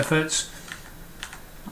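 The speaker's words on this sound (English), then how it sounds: "just left and right arrow keys" Soft clicks of the left and right arrow keys on a computer keyboard while photos are culled in Lightroom, a few light taps heard under and after a man's close speech.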